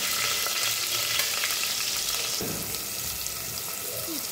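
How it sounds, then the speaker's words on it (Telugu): Onions and cumin fry in oil in a pan, giving a continuous, even sizzle that stays steady and fairly close throughout. "అందులో ఆనియన్స్, జీలకర్ర, వేసుకోవాలి."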